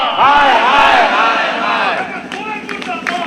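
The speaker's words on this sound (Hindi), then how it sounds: "उससे पहले आपको देखिए कैसे नारेबाजी हो रही है" Protesters angry over two missing children chant slogans in unison, a loud, close crowd of voices rising and falling in rhythmic shouted phrases, with a few claps near the end.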